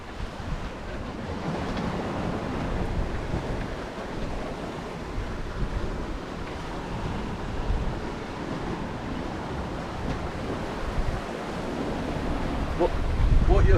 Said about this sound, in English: The conditions are, the wind is, I suppose, about 18 to 24 knots at the moment.